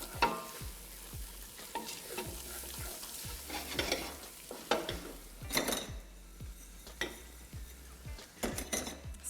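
Dried chillies toasting in a dry pan while being stirred, with a steady light sizzle and crackle under repeated scraping and clinking of a utensil against the pan, close up and without talk.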